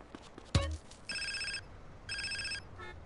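In-game telephone in GTA San Andreas rings in two repeated electronic bursts after a sharp thump, heard over a low steady background hum.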